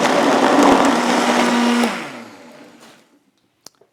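A blender whirs loudly for about two seconds blending berries into a green smoothie, then winds down and stops, followed by a few small clicks and taps.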